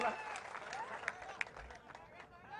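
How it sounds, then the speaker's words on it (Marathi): Applause from a crowd at a Marathi political gathering, congratulating Nitesh Rane; faint, distant clapping runs steadily throughout with a couple of sharper claps, with voices in the hall. "नितेश राणेंचं टाळ्या वाजवून जरा अभिनंदन करा"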